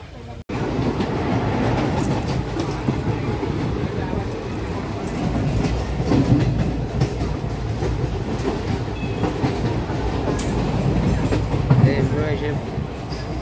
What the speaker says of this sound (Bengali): একটা ট্রেন পার করতে 2 মিনিট লেগেছে